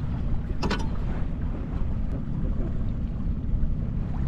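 A fishing boat motor runs at sea on the Black Sea during trolling, a steady low rumble filling the clip under wind buffeting on the microphone, with a brief clatter near the start.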